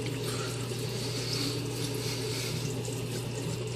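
Running water splashing steadily at a sink while a face is washed with a green bar of Lava Soap, a continuous close wash with no pauses.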